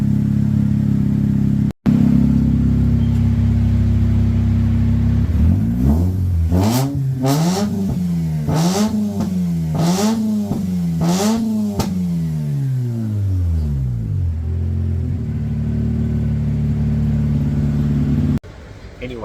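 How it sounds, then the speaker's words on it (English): A Mazda RX8 with a replacement rotary engine, running again after four years off the road, idles and then revs hard several times in a row. The rises and falls are loud and close, with a steady idle before and after. "Give it a couple of hard revs."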